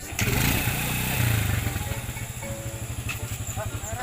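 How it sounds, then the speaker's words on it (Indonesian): A motorcycle engine idles and revs nearby, loud at first and then settling into a steady pulsing putter, with people talking faintly underneath. "Jadi bawa motor lagi."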